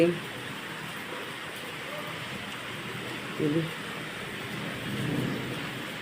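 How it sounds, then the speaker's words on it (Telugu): Heavy rain falls steadily as a close, constant hiss, with a brief low rumble of thunder near the end and no clear talk over it. "మాకైతే వాన బాగా కురుస్తుంది ఫ్రెండ్స్"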